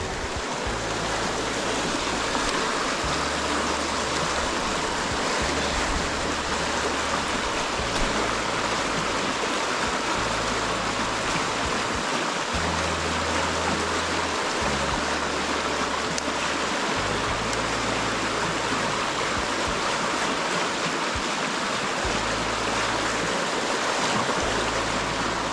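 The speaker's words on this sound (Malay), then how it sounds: "Jeram di tengah bandar, di tengah pekan." River rapids rush through a town, a loud, continuous broadband roar of churning whitewater that stays steady and close throughout, with a low rumble underneath.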